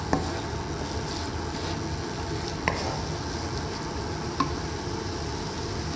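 Whisked yogurt is spooned slowly into a simmering Bengali potato curry, giving a soft steady sizzle and bubbling with a few faint clicks of a spoon against the pot, close and quiet, with no voices.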